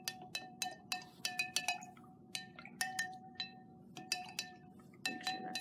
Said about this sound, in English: Then we're just gonna give it a stir.